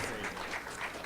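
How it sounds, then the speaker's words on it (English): Brief, quiet applause at a Kauai church gathering celebrating February birthdays, soft and somewhat distant, lasting about a second. "how about a round of applause for everybody whose birthdays?"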